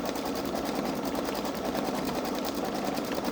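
A Babylock Solaris Vision embroidery machine stitches steadily, its rapid needle chatter forming an even, continuous mechanical whir heard up close with no talking.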